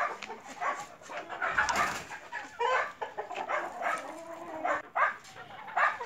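Geese honking and cackling in a lively flock, several calls overlapping at close range with no pauses.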